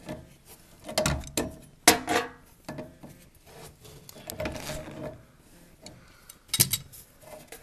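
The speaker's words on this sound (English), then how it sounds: "we're going to try and loosen this nut. It's going to release that overflow pipe." A nut on a bathtub overflow pipe is worked loose by hand during a tub replacement, giving a series of irregular close metallic clicks, knocks and scrapes with a few sharper clanks and no talking.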